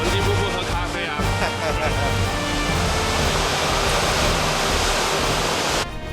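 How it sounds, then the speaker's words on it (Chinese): Gullfoss waterfall in Iceland thunders as a loud, continuous roar filling every moment, with voices talking faintly beneath it. "黄金瀑布啊！"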